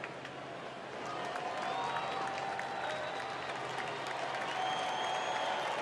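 The baseball crowd at Dodger Stadium during a World Series game rises into steady, distant cheering and applause that swells after the first second and holds loud and continuous.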